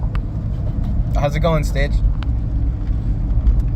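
Steady low engine and road rumble fills the cabin of a moving car carrying a dog named Stitch, a continuous drone with a person speaking briefly over it.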